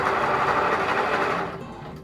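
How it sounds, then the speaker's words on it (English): A sewing machine stitches through a bag in a steady, loud, close whir, then slows and stops near the end. "I sew a little bit and then I stop just to make sure that I'm not running over this wire."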